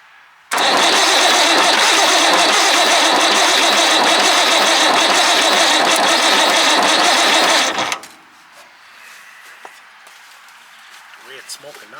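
An old Perkins diesel engine, idle for many years, cranks and roars into a loud, steady running clatter for several seconds before cutting out abruptly, followed by quieter background sounds and a few voices.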